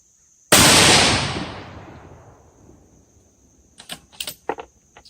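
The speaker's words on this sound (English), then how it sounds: "So first shot is going to be dead in the center" A single loud rifle shot fired during a tracking test of a Leupold LRP 8.5-25 scope, with a sharp crack and a long decaying echo, followed by a few faint clicks and handling taps.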